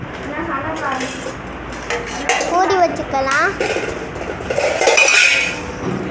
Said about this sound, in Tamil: இப்போ எல்லாத்தையும் கிண்ணத்துல போட்டு மூடி வச்சுக்கலாம்